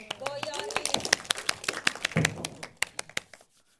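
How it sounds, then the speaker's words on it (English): A small audience at a tech talk on Playwright testing claps scattered, uneven hand claps that thin out into a few last isolated claps before fading to quiet. "Clap for him."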